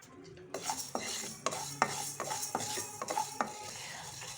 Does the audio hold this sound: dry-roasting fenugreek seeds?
yes